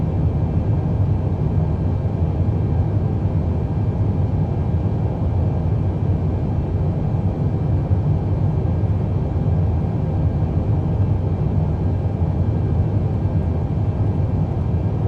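Boeing 787 airliner climbing out after takeoff from Auckland in Microsoft Flight Simulator: a steady, loud broadband jet-engine roar with deep rumble, unchanging throughout, heard alone.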